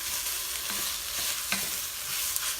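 Onions and garlic sizzle softly in a pan for a creamy cabbage soup, with a continuous gentle frying hiss and occasional light stirring scrapes, heard close with no talk.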